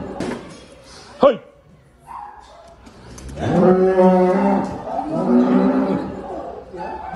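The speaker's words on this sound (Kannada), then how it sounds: "ಹಸು ಸರ್" A stray cow on a Bengaluru street moos in two long, loud, drawn-out calls after a brief sharp shout and some quieter street noise.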